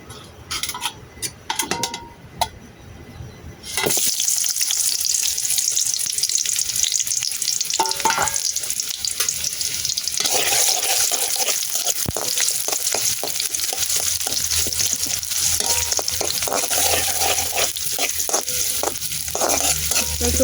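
Bitter gourd frying in hot oil in a wok, a loud, dense, continuous sizzle that bursts in after a few quieter clinks and stays strong, with occasional stirring scrapes.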